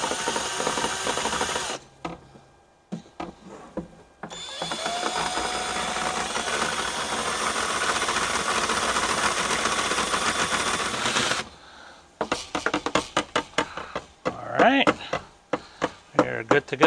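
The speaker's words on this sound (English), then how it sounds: "You just go ahead and attach it to a drill and you'll be able to mix your chemicals pretty well" A power drill with a paint mixer attachment whirs steadily for several seconds, churning liquid lawn fungus treatment chemicals, then gives way to rattling, clattering mechanical bursts; close and loud.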